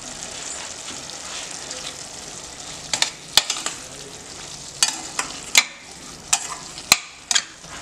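A spoon scrapes and clacks in a frying pan as spices and vegetables for a mixed vegetable kurma are stirred, a steady sizzle underneath and a run of sharp knocks toward the end, close by.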